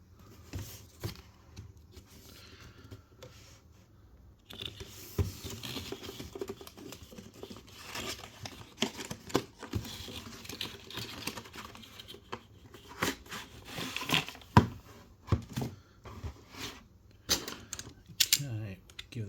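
Close crinkling, tapping and rustling of packaging as a boxed 1966 Mack R-Series prime mover diecast model, IXO 1/43 scale, is opened, in irregular bursts of clicks and crackles.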